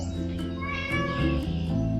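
A cat meows close by in a Bangladeshi village, a drawn-out whining call followed by shorter plaintive cries, with no talking over it.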